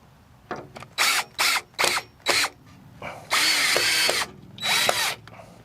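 A power drill drives screws through cement board to assemble a raised garden bed, giving several short, loud whirring bursts followed by two longer sustained runs, close up with no talking.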